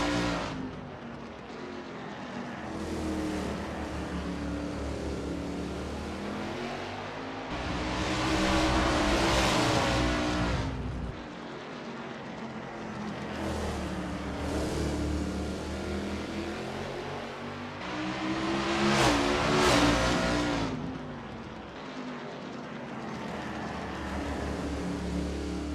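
1989 Camaro Z28 IMSA GTO race cars in the iRacing sim warming up at Martinsville Speedway, a continuous engine drone with repeated swells as cars pass by and rev, loud and unbroken.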